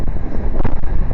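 Gusty outdoor wind buffets the microphone in a loud, roaring rush that swells and dips over about a second, with no voices.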